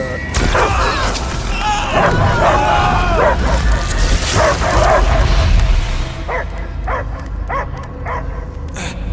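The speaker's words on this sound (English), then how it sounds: "I hear only barking." A dog barks and yips repeatedly in the Guardians of the Galaxy video game, loud and close over booming game sound, while characters speak over part of it.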